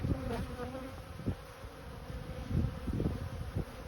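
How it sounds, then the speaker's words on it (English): Honeybees buzz steadily and densely at a hive entrance fitted with a double screened board, a near, continuous drone with occasional louder passes as individual bees fly close. "Look at all this activity in the front of this hive."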